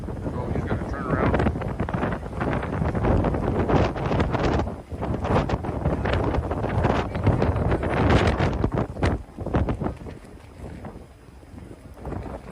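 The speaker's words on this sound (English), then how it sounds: "Windier than hell out here today." Strong gusting wind buffets an outdoor microphone in a continuous loud roar, rising and falling in surges for the whole stretch.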